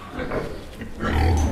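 A pig grunts in a pen stall on a small farm, a short low grunting burst near the microphone that grows louder toward the end.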